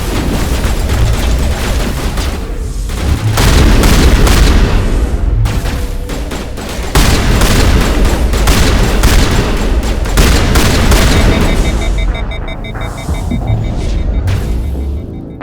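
Gunfire in the video game Mass Effect during a firefight in a lab on Noveria, dense sustained bursts of weapon fire with booming impacts and a low hum, loud and continuous with brief lulls.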